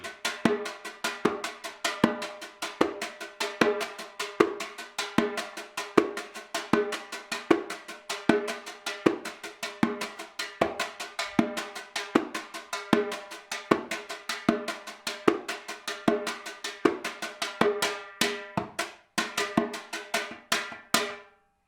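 A brush on a snare plays a brisk, repeating samba rhythm, dense even strokes with accented hits, steady throughout and close, with no voices.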